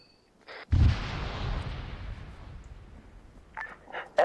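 An artillery strike slams into a mortar compound in Arma 3: a sudden loud boom with a long rumbling decay, followed by fainter distant crackles and a short radio beep near the end.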